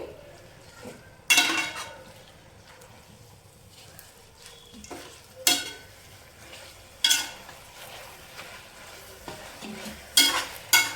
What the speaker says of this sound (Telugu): మొత్తం కలుపుకోవాలండి కింద గ్రేవీ కూడా గోంగూరలోకి వచ్చేలా కలుపుకొని